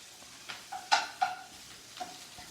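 Brussels sprouts are tossed in a hot frying pan, giving a faint sizzle broken by a few soft scraping stirs and light knocks.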